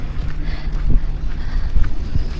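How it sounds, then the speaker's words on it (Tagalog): Strong wind buffeting the microphone outdoors at a market, a continuous low rumbling roar with gusty surges. "Mahangin. Kaya malamig."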